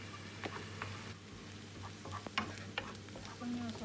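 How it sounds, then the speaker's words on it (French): Onions cook in a pan with a soft, low sizzle and sporadic clinks and scrapes of stirring, fairly quiet and close, with no voices. "On cuit d'abord les oignons, après on rajoute les champignons."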